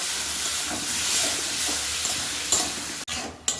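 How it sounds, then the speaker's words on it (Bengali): Crab curry masala, loosened with a little water, sizzles and hisses steadily in a pan while it is stirred, with occasional scrapes and a brief break near the end, and no voices. "এখন একটু জল দিয়ে আর একটু কষিয়ে নেব মশলাটা"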